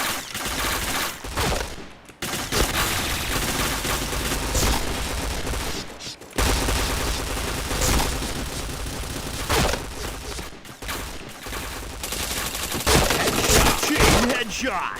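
Sustained loud automatic gunfire in a shooting video game, near-constant volleys of shots with only a few brief gaps across the stretch.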